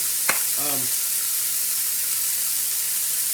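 Sausages frying in a pan give a steady, close sizzling hiss throughout, with a short sharp tick and a brief chirping tone near the start.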